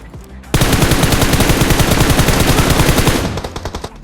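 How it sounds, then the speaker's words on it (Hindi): Rapid bursts of automatic gunfire in BGMI (PUBG Mobile) rattle loudly and continuously for about three seconds, then taper off into a few separate shots. "अब यहाँ पे बंदे मेरे ऊपर गोली चलाते।"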